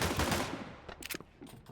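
Dual akimbo guns firing in a fast online shooter, a dense close burst of rapid shots at the start that thins into scattered pops and clicks.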